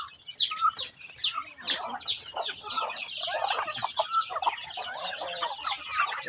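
Farmyard chickens cluck in quick, uneven bursts among other fowl, close and fairly loud, with a few sharp higher calls mixed in and no talking.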